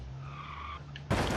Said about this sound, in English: A snazzy drift there.